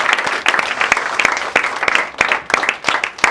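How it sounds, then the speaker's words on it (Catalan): A crowd gives a sponsor warm applause at a school and athletics club event, dense clapping running steadily throughout with sharp individual claps standing out close by. "Doncs un fort aplaudiment per el patrocinador"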